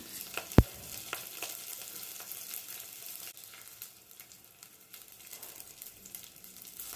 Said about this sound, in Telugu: తిరగమాత మాడకుండా బాగా కలుపుకుంటూ ఉండాలి.